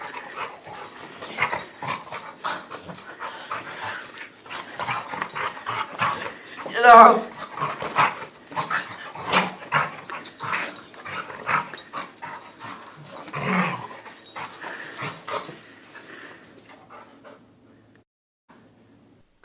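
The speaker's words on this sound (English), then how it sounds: "you can own your very own professional attack dog" A dog playing an attack dog in a school film, barking, whimpering and panting in irregular bursts throughout, with people talking and shouting commands over it before it fades out near the end.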